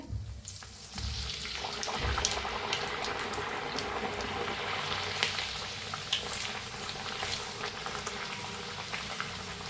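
Carrot puris deep-fry in hot oil, a dense, continuous bubbling sizzle heard close up with scattered small pops and no talking.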